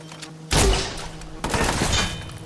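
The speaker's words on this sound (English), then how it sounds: "I forgot it's a grenade launcher." A grenade launcher fires in Watch Dogs 2, a heavy booming blast followed by a second burst about a second later, each leaving a rumbling, crackling tail amid game background noise.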